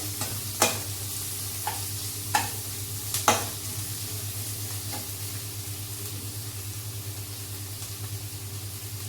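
Cut green chillies frying in a pan, a steady sizzle with a few sharp scraping stirs near the start, then continuous hissing over a low background hum.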